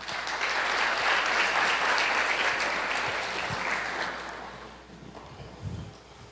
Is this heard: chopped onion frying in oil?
no